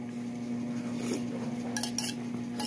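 Cutlery clinks and scrapes against a dish during a mukbang of a home-cooked all-vegetable meal, with light taps over a steady low hum and no talking.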